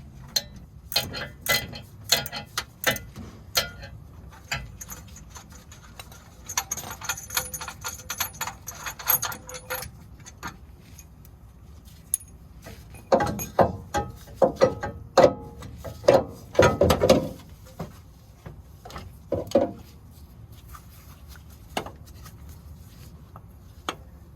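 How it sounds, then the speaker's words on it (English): Ratchet and wrench working motor mount bolts on a 2008-2012 Ford Escape with a 3.0L V6, close rapid ratcheting clicks in bursts with short pauses and a few louder clanks. "Just made it so much easier to have one of these wrenches, especially once the bolt was loosened."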